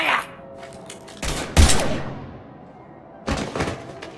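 Gunfire in Mass Effect 3: a few sharp, loud shots, including a heavy burst near the middle, separated by quieter gaps and followed by another volley near the end, with faint voices beneath.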